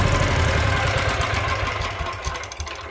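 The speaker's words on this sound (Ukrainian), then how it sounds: "Ви відразу бачите, наскільки швидко мотоблок їде, щоб мотоблочок вас заглушить." A Motor Sich MB-9DE walk-behind tractor engine runs loudly and steadily up close, with a rapid, rattling chug throughout.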